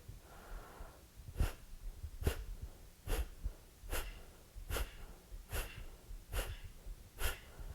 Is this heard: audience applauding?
no